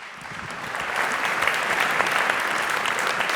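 An audience at an economics debate for a regional awards event in Gironde breaks into warm applause to welcome a guest, a dense clapping that swells over a few seconds and holds steady, with no voices over it.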